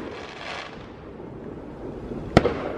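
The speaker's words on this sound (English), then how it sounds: "Well, that guy spent a lot of money on fireworks." Fireworks set off by neighbors boom outdoors from the porch, a distant rumbling wash followed by one sharp loud crack and a smaller pop.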